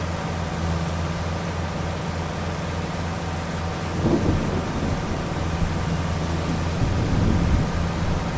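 Steady rain and rumbling thunder in Farming Simulator 25, a broad constant wash of rainfall with low rolls of thunder swelling around the middle and again near the end.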